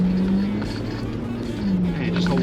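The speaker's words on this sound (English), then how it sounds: "start accelerating down to the bottom there" Ford Bronco Raptor accelerating off-road at the Bronco Offroadeo course in Las Vegas, giving a steady droning engine hum with a rising and falling tone, close and continuous, with an instructor's voice faintly underneath.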